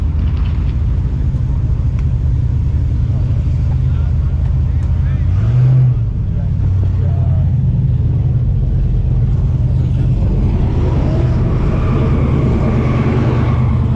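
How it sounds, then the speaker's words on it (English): Loud engine rumble and revving from cars on a Texas street at night, with a swell of tire-spinning roar near the middle and a rising din toward the end. Voices talk over it. "Oh, why are they doing burnouts?"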